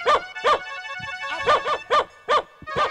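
A dog barks repeatedly in a quick, uneven series of sharp yelps, loud and close, with brief pauses between.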